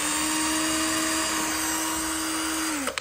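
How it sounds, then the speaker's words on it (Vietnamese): A Makita cordless drill with hammer and screwdriving modes runs at steady high speed, a continuous whirring whine that winds down sharply at the end, with no talk. "Makita 3 chế độ khoan bắn vít và búa, 25 cấp độ trượt"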